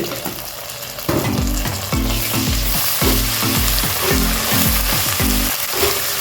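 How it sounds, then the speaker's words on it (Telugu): Ginger garlic paste frying with golden onions in a pan for mutton biryani, a loud close sizzle with quick rhythmic scraping stirs throughout, no speech. "ఇప్పుడు ఇందులో నేను అల్లం వెల్లుల్లి పేస్ట్ వేస్తున్నాను"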